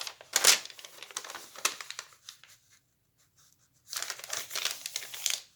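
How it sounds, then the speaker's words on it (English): Paper pages crinkling loudly as they are folded in half for a junk journal, with two bursts of close crackling separated by a near-silent gap. "Ooh, that's crinkly. That does make a loud sound."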